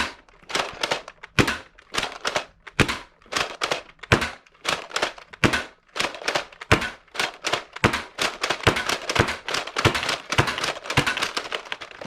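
A Dart Zone Max Tomcat foam blaster slam-fires in a rapid string of sharp, loud mechanical snaps and clacks, roughly two per second for twelve seconds, with no talking.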